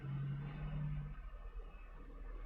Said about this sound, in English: We have one more truck.